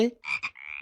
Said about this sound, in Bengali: ব্যাং